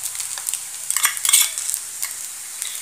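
Noodles with Schezwan chutney being stir-fried in a pan, with soft sizzling and scattered scraping and clinking of a utensil against the metal, close and fairly quiet.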